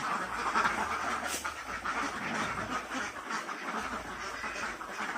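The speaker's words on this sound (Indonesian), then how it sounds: "tetap saja dibabat habis oleh si bebek ini ya lur" Ducks quacking in a rough, continuous chorus while gobbling down shrimp at a farm pen, steady and moderately close with no pauses.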